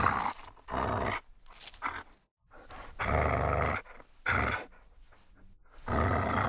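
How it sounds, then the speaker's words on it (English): A dog growling and grunting up close, recorded as a creature sound effect for the game Hytale, in several loud, rough bursts separated by short pauses. "In this case, Kieran's dog, Roland."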